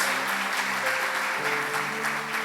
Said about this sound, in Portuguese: Ah, mas se vai aplaudir, aplaude com força, Jesus.